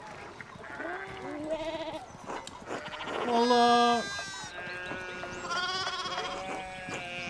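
Sheep bleating in the medieval video game Pentiment, several wavering, nasal bleats in a row, one loud and near, with someone talking over them.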